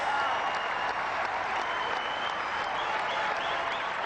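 A cricket crowd applauding a boundary at a Sri Lanka versus England Test match in 1993, steady sustained clapping from a large crowd at a moderate distance, with no talk over it.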